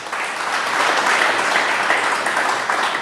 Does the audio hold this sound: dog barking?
no